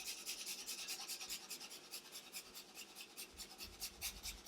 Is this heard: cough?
no